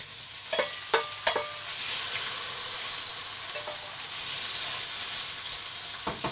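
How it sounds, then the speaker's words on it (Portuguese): Bacon fries in a pan with garlic, giving a steady close sizzle and crackle, punctuated early on by a few sharp clinks of a utensil stirring against the pan. "Vou fritar o bacon."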